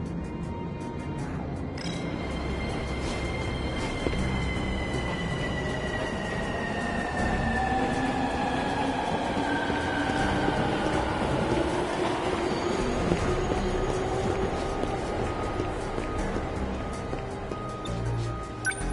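In the video game 13 Sentinels, a train sits at a station platform, giving a loud, continuous rumble of rolling cars with thin metallic squeals that slide in pitch throughout.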